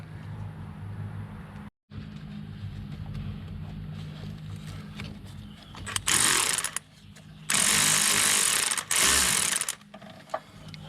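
Power tool backing bolts out of a GMC Sierra during an A/C leak repair, loud whirring bursts in several runs of one to two seconds, with quieter workshop hum between them.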